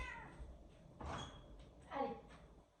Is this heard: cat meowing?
yes